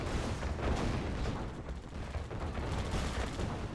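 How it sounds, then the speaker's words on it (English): Sentry gun firing in the strategy game Command & Conquer: Yuri's Revenge, a dense, continuous stream of overlapping gunfire and booming impacts that stays loud and steady throughout a busy battle. "That's sentry gun now."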